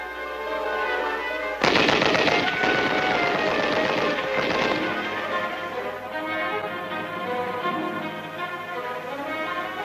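Loud, close bursts of machine gun and rifle fire from infantry weapons training, sharp rapid volleys for several seconds with echoing rattles trailing off into a lower background din.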